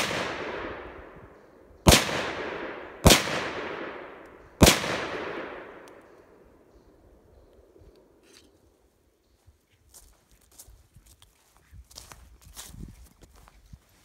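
An M-57 pistol fires three loud, sharp shots at about one-second intervals, each followed by a short ringing decay. Fainter clicks and handling noises come after them.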